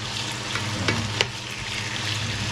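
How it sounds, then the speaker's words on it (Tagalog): Vegetables frying in a pan, a steady close sizzle with a couple of brief clinks of stirring, no talking. "Yan, prito muna natin yan."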